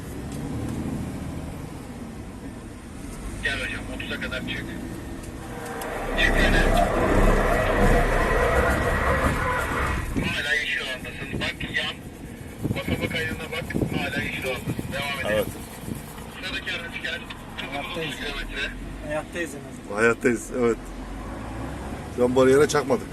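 A car comes up at about 30 km/h and brakes on a curve during a defensive driving training drill, with a loud mid-clip surge of engine and road noise settling into a steady rumble while people talk over it.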